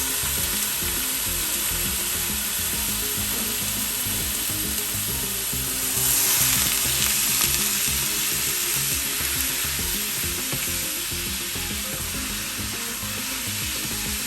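Ground beef browns in its own rendered fat in a screaming hot pan, a dense, constant loud sizzle with a brief surge midway and no talking.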